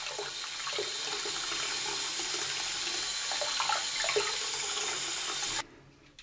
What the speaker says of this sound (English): Then I will give these a nice rinse.